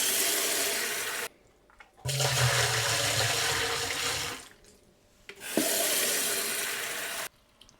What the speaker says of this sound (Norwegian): Og fyller på med noen liter vann.